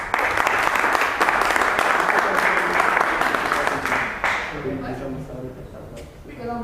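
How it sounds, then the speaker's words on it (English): A Toastmasters public speaking meeting audience welcomes a speaker with loud, dense applause that tapers off after about four seconds, then a voice begins talking. "Let's welcome Mihai with a big round of applause."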